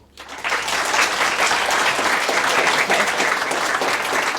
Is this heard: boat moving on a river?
no